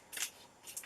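Crinkly rustle of wrapping being pulled off a makeup product, two short bursts of crisp paper or plastic crackle close to the microphone, alone with no talk.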